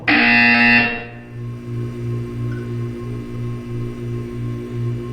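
A loud electronic buzzer in the video game Portal 2 sounds for about a second, then cuts off, leaving a low pulsing hum and faint tonal drone behind.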